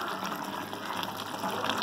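Water poured into a pot of goat meat pepper soup with crayfish in a home kitchen, a steady rushing gush of liquid lasting throughout, moderately loud and close, with no talk over it.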